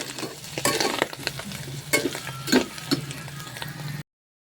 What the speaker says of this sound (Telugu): ఇప్పుడు దీన్ని బాగా కలుపుతూ ఉండాలి